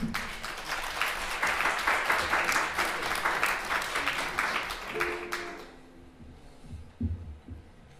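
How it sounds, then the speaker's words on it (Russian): Audience applause at a concert gala for a song festival, a dense, steady wash of clapping for about five seconds that then fades out, leaving a quieter room with faint voices. "Под ваши аплодисменты."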